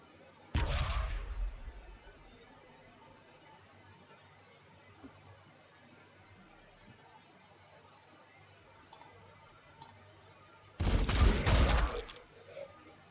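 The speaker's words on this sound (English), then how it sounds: "We do have a nice grenade toss." Two loud explosive bursts from grenades in Warhammer 40,000: Sanctus Reach, one near the start and a second near the end with a rumbling tail, separated by quiet game ambience and a few faint clicks.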